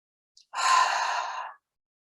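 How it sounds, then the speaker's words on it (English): A single deep inhaled breath, close and soft, drawn steadily for about a second after a tiny click, with no speech. "Take a big breath."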